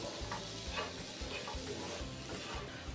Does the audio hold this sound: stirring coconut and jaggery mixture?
yes